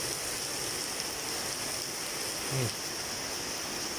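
Heavy rain pours down in a steady, even hiss with a constant high-pitched whine running through it, and a brief low sound rises out of the wash near the end.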